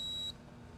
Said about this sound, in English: The LCD, the beep, and the spotlight indicate one edge of the stud.